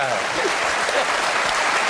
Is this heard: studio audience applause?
yes